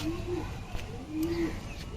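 A pet pigeon being treated for canker coos twice, close and clear, a soft low throaty call with a short pause between, over a faint background murmur.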